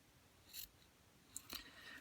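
Scissors snip through lace for doll underwear in two short, quiet close cuts about a second apart against a faint background hush.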